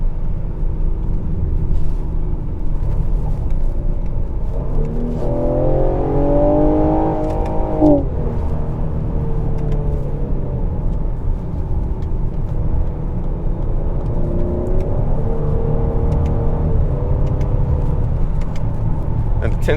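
A 2022 Ford Explorer ST's engine and exhaust accelerate under a steady road rumble, climbing in pitch through a gear before the revs drop and build again, heard from inside the cabin.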